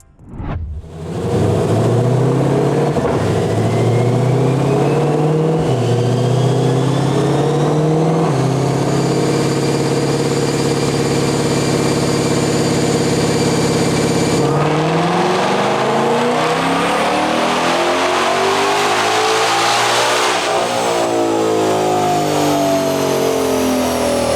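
A 2020 Ford Shelby GT500 with carbon fiber track package, carbon fiber driveshaft and 3.73 Torsen rear differential, running 93 octane fuel, roars loud and close through a 4th-gear dyno pull, its engine note climbing steadily in pitch over about twenty seconds before easing off.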